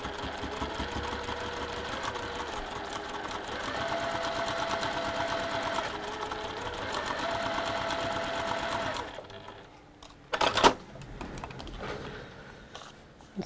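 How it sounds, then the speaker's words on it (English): A sewing machine stitches fabric along a pinned line with a rapid, even, close mechanical chatter that runs for about nine seconds. It then stops, followed by a quiet pause and a brief sharp knock. "sew along that line just a little bit before and just going a little bit past it"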